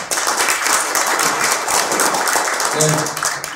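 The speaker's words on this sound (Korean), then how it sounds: "큰 박수 부탁드리겠습니다" An audience at a startup and patent lecture gives loud, dense applause to welcome a patent attorney, with a voice starting to speak as the clapping fades near the end.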